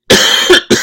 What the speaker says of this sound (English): if I can get past this coughing fit